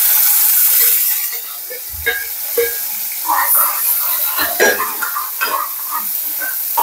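Chopped onion sautés in a pan for baingan do pyaza, a steady close sizzle broken by scraping stirs and soft clinks.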